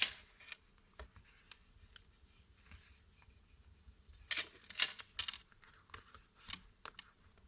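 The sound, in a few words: bone folder creasing paper folds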